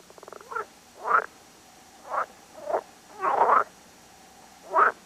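Frogs croak in short, separate calls, a rattling trill first and then five or six throaty croaks at uneven intervals, close and clear against a quiet background.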